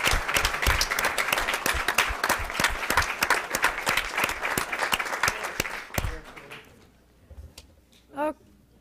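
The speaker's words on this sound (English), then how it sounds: "Big round of applause." An audience at a higher-education event gives a sustained round of applause, dense clapping that fades out after about six seconds into quieter room noise, with a brief voice near the end.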